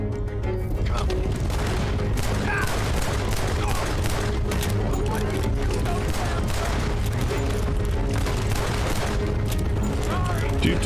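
Dense, continuous gunfire during a stagecoach robbery shootout in Red Dead Redemption 2, loud and sustained across the whole stretch with overlapping shots and booms, with voices faintly mixed underneath.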